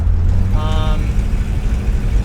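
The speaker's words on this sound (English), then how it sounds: "it's an engine with very little exhaust" A Ford Falcon wagon's engine, with very little exhaust, drones loud and raw steadily at close range, with a brief higher-pitched whine partway through.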